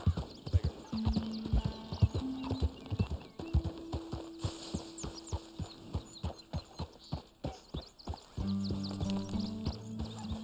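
Horse hooves clip-clop in a steady walking rhythm in a video game wagon-train scene, with occasional whinnies and synthetic game tones sounding between the hoofbeats.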